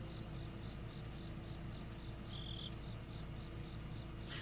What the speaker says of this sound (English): Those are crickets you hear, folks.